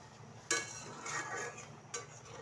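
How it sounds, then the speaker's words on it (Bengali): A spoon stirs mustard hilsa curry in a pan just after cumin powder goes in, quiet and close, with two faint metallic clinks over a soft scraping bed. "জিরার গুঁড়াটা দিয়ে এখন নেড়ে নিলাম"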